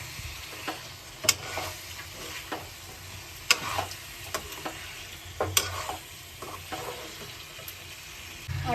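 Chicken sizzles in roasted masala in a kadhai, with a steady fry hiss under repeated scraping stirs and sharp clinks of a spoon against the pan.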